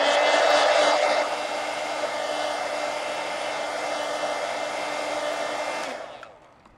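A hair dryer blows steadily on an ink drawing, a loud close whooshing roar that drops slightly in strength after the first second, runs evenly, then cuts off near the end.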